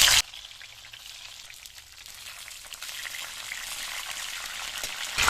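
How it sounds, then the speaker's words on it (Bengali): Fish paturi parcels wrapped in leaves go into lightly heated oil in a kadai, giving a steady, close sizzle and bubbling crackle that grows a little louder toward the end, with no talk. "তেলটা হালকা গরম হয়ে গেছে, এবার একে একে পাতাগুলো দিয়ে দেবো।"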